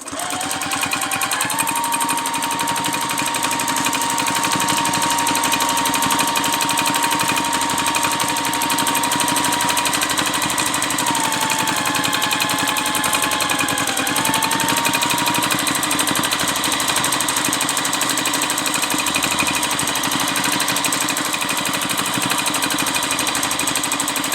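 A sewing machine stitches free motion quilting on minky fabric, running a steady fast needle hum throughout with slight pitch shifts as the speed changes.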